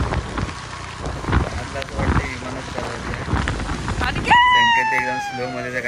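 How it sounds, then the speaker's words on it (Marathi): Heavy monsoon rain pours steadily outdoors in a village setting, a dense continuous hiss with wind buffeting the microphone, and a voice rises briefly near the end. "सगळीकडेच खूप मुसळधार पाऊस पडतो"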